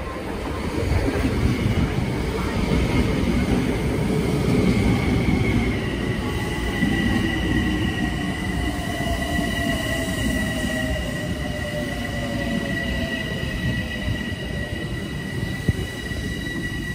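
A northbound local train rolls past on the Hudson Line tracks with a continuous heavy rumble, while high metallic wheel squeals rise and fall above it.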